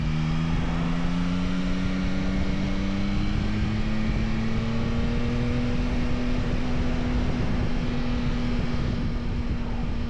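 Yamaha Tracer 9 GT motorcycle on the move, a steady engine drone with a slowly rising tone as it pulls along, heavy wind rush over everything, constant and close, no talking.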